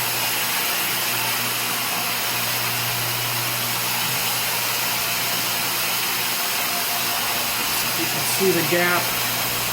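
Vacuum pumps of a 1325 rotary-axis CNC router holding down an MDF spoilboard, running with a loud steady broadband rushing roar while someone talks over it.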